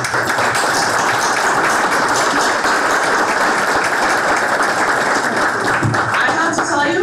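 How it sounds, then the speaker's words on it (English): A keynote conference audience applauds loudly and steadily, with dense continuous clapping throughout. "I'd like to give them a round of applause."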